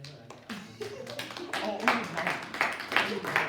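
A classroom of students claps in scattered, uneven bursts, with talking mixed in throughout.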